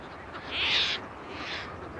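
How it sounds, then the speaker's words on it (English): A Caspian tern in a nesting colony at Banc d'Arguin gives one loud, harsh, rasping call, followed by a fainter second call over a steady outdoor background. "The Caspian tern is the largest of all terns"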